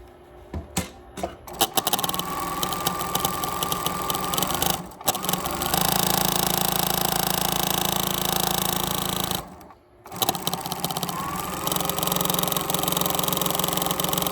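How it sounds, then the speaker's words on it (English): A sewing machine stitches along the unfinished edge of a scrap of fabric as a loud, steady mechanical whir that runs for long stretches and cuts out twice in brief pauses, close up, with no talking. "while your machine is going, you just feed it through"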